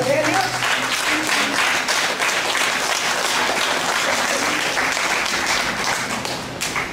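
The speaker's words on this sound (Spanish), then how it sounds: "Dale las palmas a Él, por favor" A church congregation claps loudly and continuously during a sermon, dense overlapping applause that fills the room and tapers slightly near the end, with voices mingled underneath.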